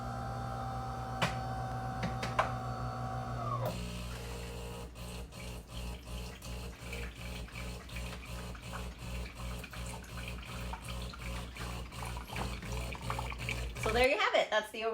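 A DeLonghi Dinamica coffee machine runs its rinse cycle, first a humming whir with beeps, then a rhythmic pumping pulse of water through the unit, ending in a brief gurgling spurt.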